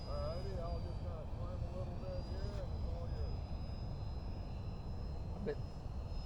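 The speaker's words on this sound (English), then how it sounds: "All right, Fredo, I'm going to land." A small RC model jet comes in to land at a flying field, its thin turbine whine steady and moderately distant beneath people chatting nearby.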